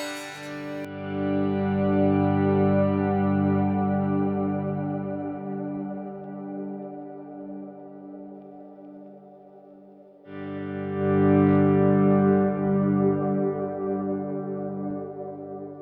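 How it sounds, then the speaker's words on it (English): Ambient electric guitar swells from a Plexi preset on a Fractal Axe-FX, with soft chords fading in and ringing out under heavy echo and reverb. A second swell rises after a gap, and there is no talking. "both of these presets give you ambient swells as well"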